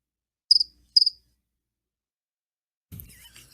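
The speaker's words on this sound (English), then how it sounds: "I needed some cricket sounds" Two short chirping cricket trills played back from a phone, crisp and close in near silence, followed by a faint rustle or handling noise at the end.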